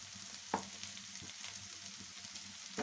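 Chilli powder frying with brinjal in a pan while making brinjal curry, a soft steady sizzle broken by a few light scrapes and clicks of stirring.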